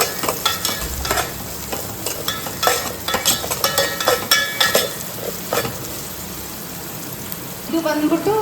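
Masala frying in oil in a pan on the stove, a constant crackling sizzle with stirring clinks and scrapes, speech heard over it.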